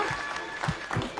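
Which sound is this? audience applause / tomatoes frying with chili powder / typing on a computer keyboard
audience applause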